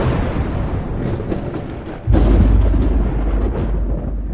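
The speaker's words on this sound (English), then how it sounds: "They heard a noise. It sounded like rolling thunder." Rolling thunder in an animated story, a sustained low rumble that swells sharply midway and keeps booming loudly to the end, with no voices.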